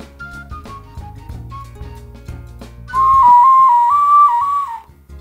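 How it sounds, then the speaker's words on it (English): A handmade ceramic whistle shaped like an ocarina gives a loud, steady high tone lasting about two seconds, with a slight wavering in pitch. Quieter knocks and handling sounds come before it. "This is my funky little Macassar whistle with a smiley face."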